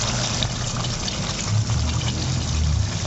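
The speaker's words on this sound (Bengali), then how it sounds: "সবগুলো মাছ আমি দিয়ে দিলাম।" Katla fish pieces go into a pan of doi (yogurt) curry, setting off a steady bubbling, liquid simmer with a low churning undertone, close and continuous, no talk.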